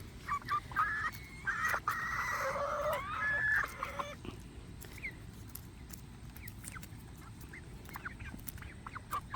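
Americana chickens cluck and call on a rainy-day farm run, with bursts of harsh birdlike calls in the first four seconds giving way to quieter scattered clucks over steady outdoor background noise.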